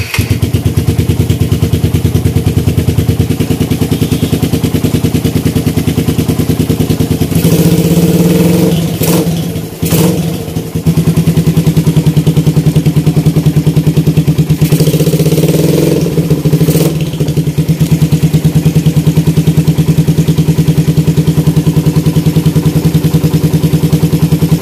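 A motorcycle engine runs loud and close after a bypass hose has been fitted, idling steadily with two brief revs partway through.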